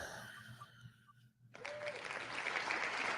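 Applause and cheering erupt suddenly for giveaway winners during a live futures trading stream, a sustained, fairly loud wash of clapping following a brief hush.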